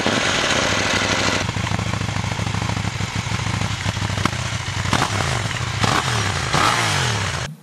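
A KTM 790 Duke motorcycle engine with stock exhaust runs loudly and steadily close by, its exhaust rumbling with sharp crackles and pops throughout.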